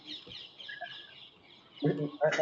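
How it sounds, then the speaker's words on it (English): Chirping bird calls sound faintly in the background of a webinar call, with brief louder bursts near the end that may be voices. "I can hear the birds singing."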